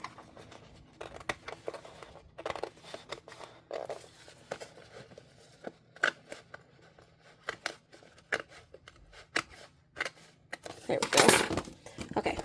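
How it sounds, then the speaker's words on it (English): Scissors snip through paper and a hole punch clicks near the end, a run of sharp, quiet, close cuts and rustles with a louder crunching burst at the finish, while someone talks softly. "let me cut this in half so that we can punch it"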